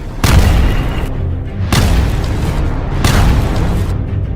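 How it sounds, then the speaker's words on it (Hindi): Three heavy booming blasts from rocket strikes on military posts near the Israel–Lebanon border, each a deep explosion followed by rumbling decay, spaced about a second and a half apart. "लेबनान और इजराइल की सीमा के पास मौजूद कुछ फौजी ठिकानों पर धमाके होते दिखाई दिए"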